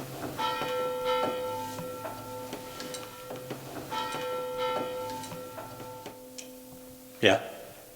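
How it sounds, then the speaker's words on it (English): Church bells tolling from a tower, several resonant strikes ringing out in slow succession with long sustained decays, followed by a short sharp knock near the end. "Toll the bells."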